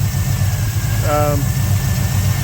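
A car engine idles steadily after a carburetor swap, its low even rumble close and continuous, with a brief whining tone rising over it near the middle.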